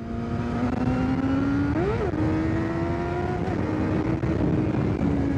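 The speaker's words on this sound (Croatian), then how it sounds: "ko metak ovaj motor ide, ko metak" A 600 cc motorcycle riding fast gives a steady, loud engine drone, with a brief rise and dip in pitch near the two-second mark as the throttle changes. Wind rush is constant and nobody talks.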